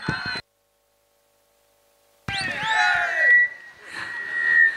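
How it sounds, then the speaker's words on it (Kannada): A crowd at a cricket tournament final bursts into loud cheering, whoops and whistles after a short cut to silence, rising and swelling in waves. "ದಯವಿಟ್ಟು ಕಟ್ಟಿ ಚಪ್ಪಾಳೆ ಬರಲಿ"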